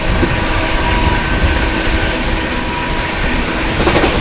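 Shiv Ganga Superfast Express, a New Delhi–Banaras train, running at high speed past Panki Dham station, a loud continuous rumbling roar with faint clatter of wheels on rails throughout.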